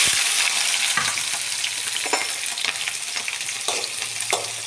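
Steady sizzling of onions and green chillies frying in a hot pan, a close, continuous crackle with occasional louder spits and stirring scrapes.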